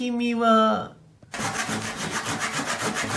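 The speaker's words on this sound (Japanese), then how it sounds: "ノコギリでカットできました。" A hand saw cuts through wood for a wall storage build, giving steady, rhythmic rasping back-and-forth strokes up close, after a brief spoken voice at the start.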